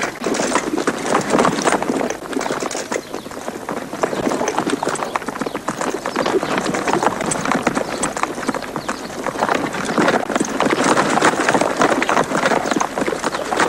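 Steady clip-clopping of horse hooves, a dense continuous patter of many hoofbeats close by, with faint voices mixed in.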